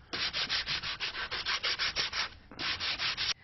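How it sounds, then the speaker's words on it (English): Sandpaper rubbed by hand along the edges of wooden furniture frame pieces, a rapid series of close, raspy back-and-forth strokes in an even rhythm, with one brief pause before the strokes resume. "When you sand it down, don't take too much off, or you're going to end up with a very sloppy joint."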